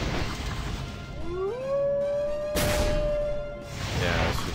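A single rising, drawn-out howl from the video game move Howl Search of Power, a wolf-like cry that swells and holds over a noisy battle background, followed by a burst of impact noise.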